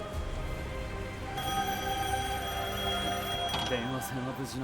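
A telephone rings in Devil May Cry 5 with sustained electronic tones that hold steady, then give way to a voice speaking near the end.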